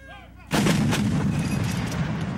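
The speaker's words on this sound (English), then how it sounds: "please direct your attention to the guns to your front as they mask their fires in an immediate suppression mission on the far ridgeline" Artillery battery firing an immediate suppression mission toward a far ridgeline at a Fort Bragg demonstration: a heavy boom followed by a long rolling, echoing rumble, heard at a distance.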